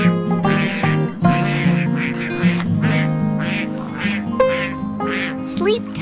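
Cartoon ducks on a farm quack in a lively series of loud, nasal, close calls, overlapping and repeating throughout over a soft musical background.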